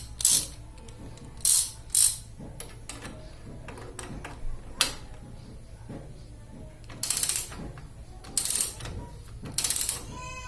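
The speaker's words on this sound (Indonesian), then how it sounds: "lalu kita kencangkan menggunakan ratchet" Ratchet tightening a square-taper bottom bracket bearing on a bicycle: short, close bursts of rapid pawl clicking, separated by quieter pauses.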